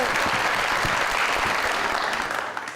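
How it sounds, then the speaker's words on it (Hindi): Dense applause from a studio audience on a TV show, loud and sustained with many hands clapping together, fading slightly at the end, no voices on top. "बहुत सारी तालियां।"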